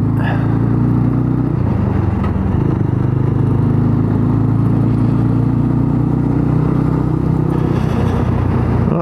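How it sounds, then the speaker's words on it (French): A small tractor rumbles past on a street in Courseulles-sur-Mer, a seaside resort. Its engine drones loud and close, steady and low, with some clattering throughout. "Petit tracteur."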